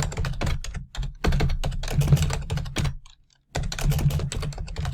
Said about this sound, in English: I'm going to type in 5 lines of clues